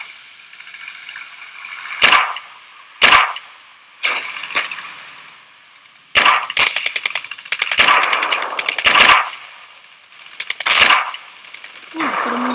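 Gunfire from a gun in a shooter video game, with loud sharp shots in separate bursts and short rapid volleys over a steady background hum.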